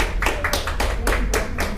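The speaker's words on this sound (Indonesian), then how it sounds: "Boleh tepuk tangan untuk panitia yang di belakang layar yang membantu menyukseskan acara kita gitu." Applause from an event audience for the behind-the-scenes organizing committee: a short burst of hand claps, fairly close and steady, with no talking over it.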